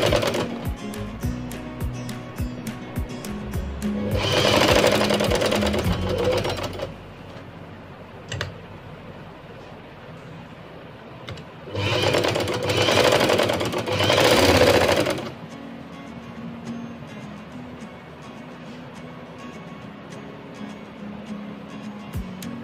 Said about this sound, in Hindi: इसकी फ्रिल की साइड की सिलाई लगाती हूँ